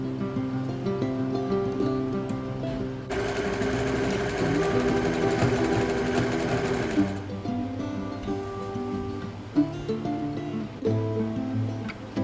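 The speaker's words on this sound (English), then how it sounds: "so now I'm going to reread the pattern again and start sewing." A sewing machine stitches summer clothes, its rapid mechanical whir running steadily for a few seconds before stopping, followed by quieter handling clicks and a soft background hum.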